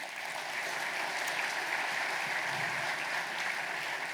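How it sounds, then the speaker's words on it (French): An audience at a New Year's wishes ceremony in the town of Cusset applauds steadily, a dense, even wash of clapping that holds at a constant level for the whole stretch with no talk over it. "On peut l'applaudir."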